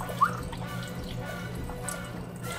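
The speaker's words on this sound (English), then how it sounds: "I don't think you can spray your OEM trays down, so it's taking a little while to drain" Water drains from a sintered mesh freeze dryer tray: one distinct near drip falls early, followed by a soft, quiet trickle and faint scattered drips.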